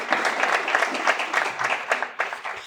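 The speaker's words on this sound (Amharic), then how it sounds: "በደንብ አጨብጭቡላቸው ባካችሁ" Studio audience at a televised quiz show applauds the contestants, steady close clapping from many hands filling the whole stretch with no talk over it.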